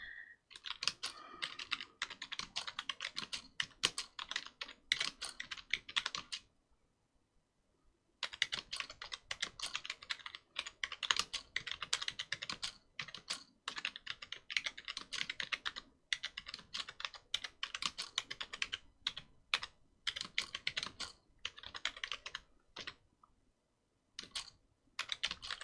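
Fingers typing on a computer keyboard, close and quiet, in long runs of fast irregular key clicks broken by a few short pauses.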